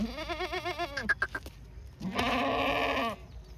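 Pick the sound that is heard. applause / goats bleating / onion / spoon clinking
goats bleating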